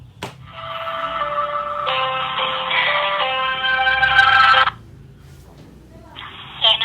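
A telephone call to the Kartu Prakerja service line rings out as a sustained electronic ringback tone, with one long stretch of tone, then a pause, then the ring starting again.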